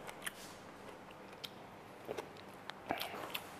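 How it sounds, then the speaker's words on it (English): Close, quiet chewing and biting on a mouthful of salty mackerel belly with rice, a few soft crunchy clicks and smacks scattered over a faint room hush, with no talking. "I'm gonna try my belly of mackerel."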